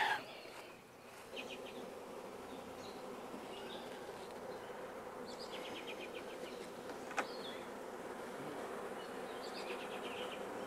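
A honeybee swarm droning around a hive box outdoors, a steady soft hum of many wings with individual bees buzzing close past now and then, and a faint bird in the distance.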